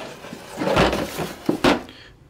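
A junk drawer of electronics and small parts slides open in a garage, with a couple of soft thumps and a rattling scrape of loose contents, close and brief, with no talking.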